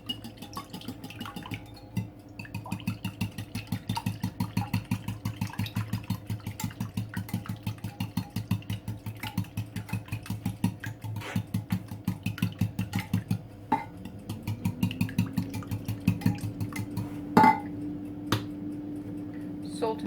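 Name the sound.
whisking quiche filling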